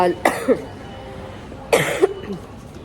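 Two sharp bursts of close coughing from a person with a bacterial infection, each a quick pair of harsh coughs, separated by a quiet pause.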